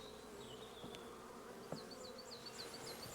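Honey bees buzz around an open beehive during a farm hive inspection, a low, steady drone of many insects with a few louder passes near the microphone, faint overall and with no talk.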